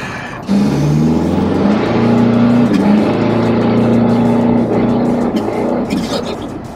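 A diesel Toyota Innova driven fast on the road, its engine revving loudly and steadily up and down close by, with a voice speaking over it.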